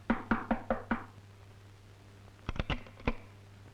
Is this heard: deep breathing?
no